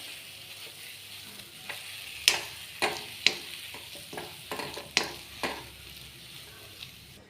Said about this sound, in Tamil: இந்த மாதிரி சட்டியில் ஒட்டாம வர அளவுக்கு நல்லா பார்த்து மிக்ஸ் பண்ணி விட்டுருங்க.